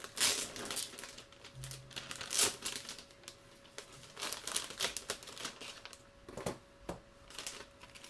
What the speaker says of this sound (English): get to tear off the new plastic